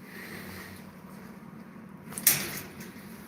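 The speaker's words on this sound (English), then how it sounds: "Okay, I'll close the door." A door being closed indoors, heard as one brief sharp click that rises out of a low, quiet room hum.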